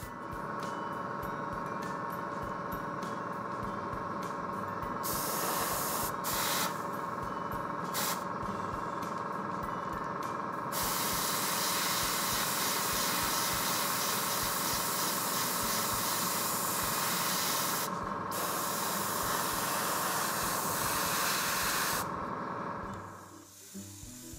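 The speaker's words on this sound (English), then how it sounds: "I just take the original color and spray over the post shading till it's light enough." An airbrush sprays paint over post shading on a Kitty Hawk 1/48 AH-1Z Viper scale model kit. A steady, close hiss runs throughout, broken by a few brief pauses.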